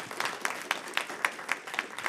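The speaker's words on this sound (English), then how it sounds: "Let's give them another round of applause." Audience applause for conference speakers at the close of an economics and computation conference session, a short, fairly faint spatter of clapping with recurring sharper claps.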